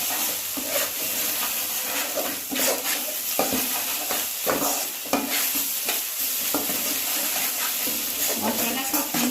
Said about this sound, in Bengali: মশলাটা খুব সুন্দরভাবে কষা হয়ে গেছে, মশলা থেকে তেল ছাড়া শুরু করে দিয়েছে।